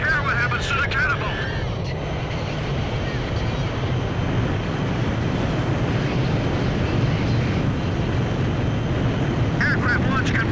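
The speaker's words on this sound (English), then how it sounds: "Aircraft launch confirmed." Jet aircraft launched by catapult from a carrier in Ace Combat 5, a loud, steady roaring rush of engine and wind noise with brief radio-style chatter at the start and end.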